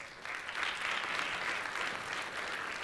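An audience at a live political talk at a D.C. fall retreat applauds, a dense, even patter of many hands clapping steadily for a few seconds, moderately distant and fairly quiet.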